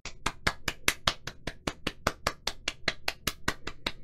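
A lone man clapping his hands in applause, about twenty crisp, evenly spaced claps in a quick steady rhythm, close but fairly quiet, with no other sound around them.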